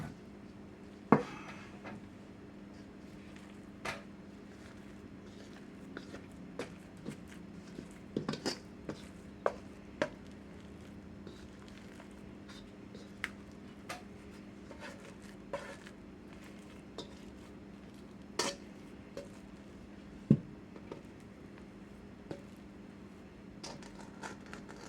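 A small scraper works floured no-knead yeast bread dough on a silicone pad, making soft, irregular taps and scrapes that repeat close by over a low, steady hum.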